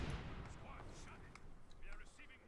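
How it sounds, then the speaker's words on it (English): Mortar fire from double mortar emplacements in the video game Company of Heroes 2, a series of faint thuds and distant blasts at quiet level under continuous voice chatter. "Lots of mortar firing down all over the place here from McBain's double mortar emplacements"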